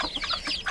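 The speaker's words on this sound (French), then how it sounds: "Alors voilà toute la petite ribambelle de poussins." Chicken clucking from a hen with her brood of five chicks in a backyard, a few soft, close clucks and chirps in quick succession with no talking.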